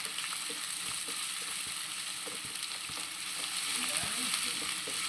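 Onions frying in a pan for prawn biryani give a soft, steady sizzle with occasional light stirring taps, faint and close.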